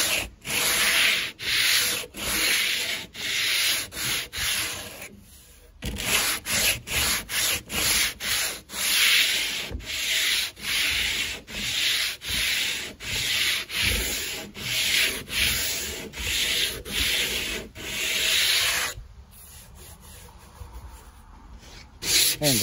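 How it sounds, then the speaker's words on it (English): A pinball cabinet is hand-sanded with 100 grit paper on a block, giving close, loud rhythmic rasping strokes in a steady back-and-forth series with two short pauses. "100 grit on a block sand. Just gonna take down the ridge."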